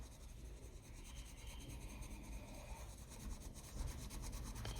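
Soft, steady rubbing of a Derwent Coloursoft pencil across paper, smoothing over Inktense lines on a rainy-day frog drawing background; close and continuous, with a gentle scratchy texture that grows slightly louder toward the end.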